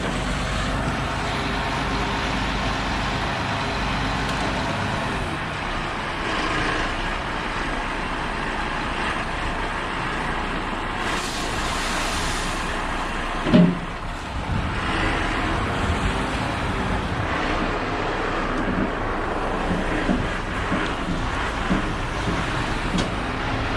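A grab lorry delivering stone for a garden project, its engine and hydraulics rumbling steadily beside a road, with passing traffic and one brief sharp knock midway.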